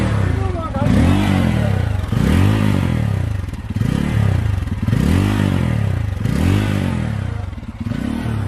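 A Bajaj Pulsar N250 motorcycle engine revs close and loud, rising and falling in about six rhythmic throttle swells over a steady idle rumble.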